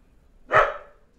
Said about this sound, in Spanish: Mi perro está ladrando.